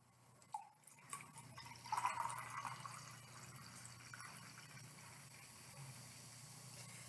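Fizzy green alcohol poured to top up a glass, with a faint splash followed by a soft, sustained fizzing hiss that fades gradually over several seconds, quiet and without speech.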